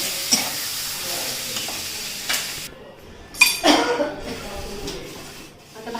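Pots and kitchen utensils are handled and tidied in a home kitchen: scattered clinks, knocks and scrapes at close range over a low background hiss, with one sharper clatter in the middle.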